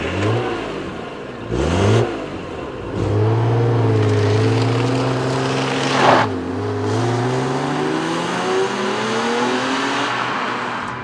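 A BMW E36 M3 Evo revs hard and pulls away, its engine note climbing through several gear-like rises and dips over about eleven seconds, loud and close with a brief tire chirp near the start.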